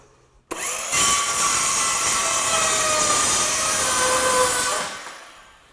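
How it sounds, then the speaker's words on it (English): A circular saw rips through a laminate flooring board being trimmed to fit, a loud, steady whine starting abruptly and running for several seconds before spinning down, with no talking. "I'm going to do this using the circular saw."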